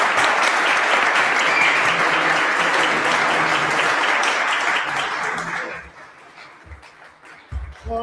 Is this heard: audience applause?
yes